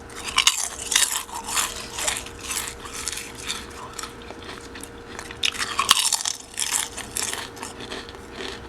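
Homemade potato chips being bitten and chewed close up, a dense run of sharp, dry crunches and snaps that keep going steadily without speech.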